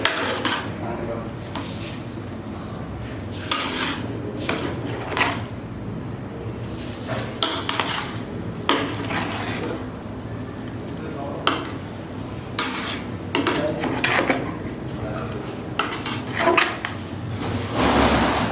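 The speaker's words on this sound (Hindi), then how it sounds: "और चावल हम अच्छी तरह मिक्स करेंगे चाशनी में।" A spoon stirs rice into sugar syrup in a pot as mutanjan sweet rice is cooked. Repeated close scrapes and taps against the metal come in an uneven rhythm over a faint sizzle.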